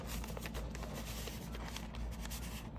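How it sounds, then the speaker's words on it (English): Thin vintage receipt paper rustles and crinkles softly up close, a continuous quiet papery shuffle with small crisp flutters throughout. "this vintage receipt paper thing. And this one's really thin. I like that. I like the sound it makes."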